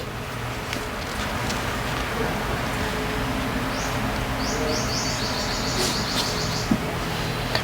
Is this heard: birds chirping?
yes